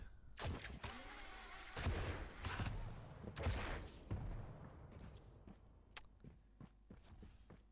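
Railgun shots traded by two players in a Quake Pro League duel: sharp broadband cracks repeating irregularly, several close together early and then sparser, with game impacts and footsteps between them.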